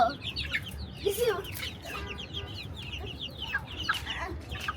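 Chickens cluck close by in short, repeated bursts over a low background murmur, with a few louder calls near the start.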